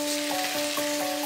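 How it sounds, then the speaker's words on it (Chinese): Blanched pork liver stir-fries in hot oil with ginger and garlic slices, a dense, even sizzle close up with a faint tonal hum and small crackles throughout. "我们要把这个香肝上的水分啊，给它煸出去啊"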